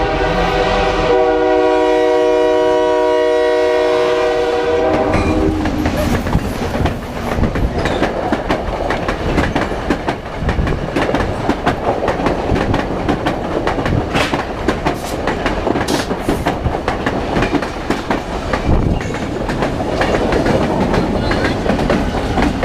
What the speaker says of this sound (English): After the horn show and the bike train had passed